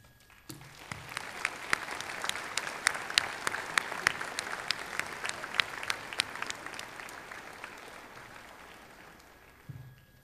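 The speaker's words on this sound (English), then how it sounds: "I would like all the graduates to give a big round of applause for all those people in the stands" Graduates at a college commencement ceremony applaud the families and supporters in the stands, a broad, steady wash of clapping from a large crowd that swells, holds, and fades near the end.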